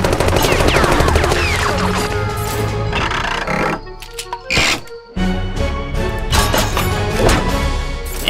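Tycho's Tommy Blast in Penny Arcade Adventures unleashes loud, dense tommy gun fire, a sustained rattling barrage that drops out briefly midway before the bursts resume just as heavily.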